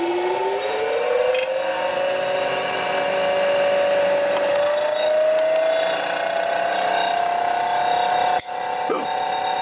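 A 3-phase motor driven by a Huanyang VFD whines as it ramps up: a loud, close, steady electronic tone glides upward in pitch over several seconds over a high hiss, broken by one brief dropout near the end.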